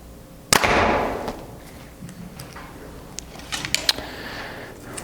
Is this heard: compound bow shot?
yes